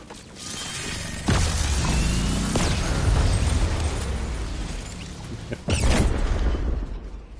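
Explosions wrecking a building in the video game Fortnite, two loud booming blasts a few seconds apart with rumbling debris and a sustained roar between them.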